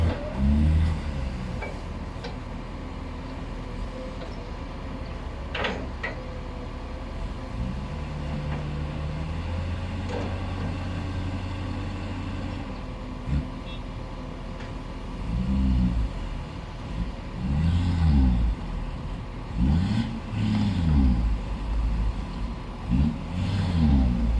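A Mitsubishi Fuso dump truck with a 20-ton, 100 km rating and a 0.50–1.10 cubic metre bucket runs its engine as a steady low rumble. Several surges of revving rise and fall throughout, with the engine close and loud.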